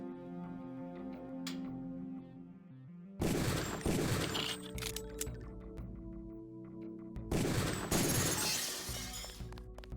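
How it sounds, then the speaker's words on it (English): Gunfire on the rifle range in the video game Deus Ex: two sharp, loud bursts of shots crack out a few seconds apart, each followed by a ringing tail, with a soft musical tone underneath between them. "Release the second target and aim before shooting this time."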